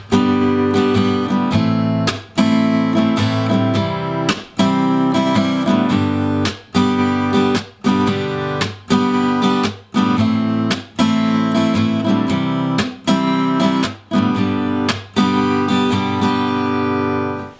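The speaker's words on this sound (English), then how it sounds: "add in a bit of percussion to your strumming pattern" Acoustic guitar strums steadily in a driving rhythm, punctuated by sharp percussive palm slaps that briefly choke the chords at regular intervals.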